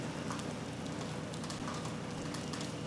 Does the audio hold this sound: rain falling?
yes